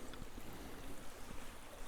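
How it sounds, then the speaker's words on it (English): A creek runs beside a snowy hiking trail, a steady broadband rush of flowing water that fills the whole moment at an even, moderate level with no voices. "This creek runs along here"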